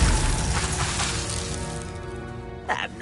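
Bombarda blast spell cast in Hogwarts Legacy, a loud shattering crash up close that rings out and fades over about three seconds, with a short voice-like burst near the end.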